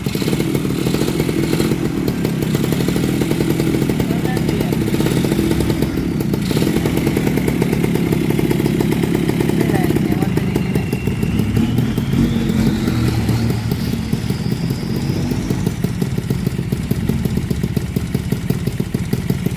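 A small RC car engine with a leaking exhaust buzzes and revs continuously at close range, a harsh, rattly drone with slight pitch changes throughout.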